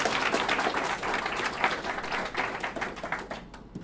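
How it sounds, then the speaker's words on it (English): Dense, steady applause from an audience at a KansasFest conference talk, many hands clapping continuously at moderate loudness before thinning out at the very end. "You may clap."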